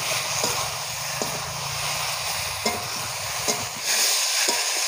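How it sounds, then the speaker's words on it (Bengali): Pointed gourd (potol) being stir-fried in a pan, a steady sizzle with occasional sharp clinks and scrapes of a spatula stirring against the pan, close and continuous. "পটলটা দিয়ে আর একটু কষিয়ে নেব।"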